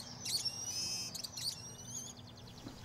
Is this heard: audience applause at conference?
no